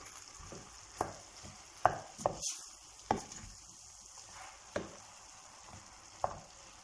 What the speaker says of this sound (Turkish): Bakın bu şekilde karıştırmak da daha kolay olacak. Şöyle bir karıştıralım.